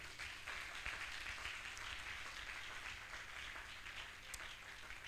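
A church congregation applauds and cheers together, a steady wash of clapping and crowd noise filling the whole stretch at moderate distance.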